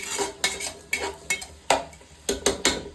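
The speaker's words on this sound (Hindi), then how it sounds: "थोड़ा सा हमने ऑयल डाला है इसमें, और इसको अच्छे तरीके से ना पकाता है। प्याज को थोड़ा सा फ्राई करता है।" Onions in a little oil for a dal chicken sobat, with a light sizzle under repeated sharp scrapes and clinks of a metal spoon stirring against the pan, close and uneven in rhythm.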